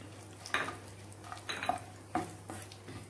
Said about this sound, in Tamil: இதில் ஏலக்காய், பட்டை, கிராம்பு, கல்பாசி, லவங்கம் எல்லாத்தையும் சேர்த்து வதக்கிக்கிறலாம்.